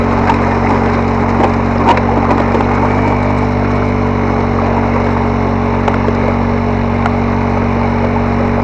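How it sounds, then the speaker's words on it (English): A boat motor on Eagle River running with an uneven rev, a loud continuous low drone with steady harmonic tones and slight wavering, plus occasional faint knocks, with no voices. "I've got some kind of revving thing going on with the motor"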